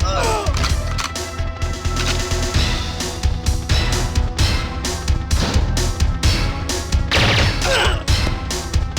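Rapid gunfire from GoldenEye 007 on the N64 comes in loud bursts of repeated shots and impacts, dense and continuous across the whole stretch.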